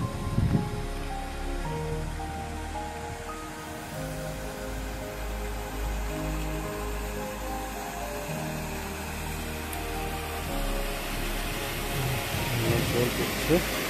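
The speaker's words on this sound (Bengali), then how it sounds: "জল বইছে" Mountain stream water flowing on a trek, a steady broadband rushing close by that lasts throughout, with scattered low thumps and rustles over it.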